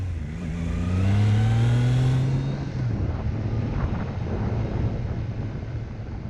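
A 2023 Triumph Trident motorcycle pulls away on a dirt road, its engine climbing in pitch through a brief rev before easing off into a steady ride with wind rushing across the microphone.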